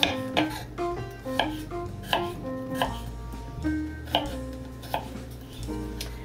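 A knife slicing garlic thinly on a cutting board for a winter stir fry: steady, crisp chops repeating at a brisk, regular pace, close and clear with no speech.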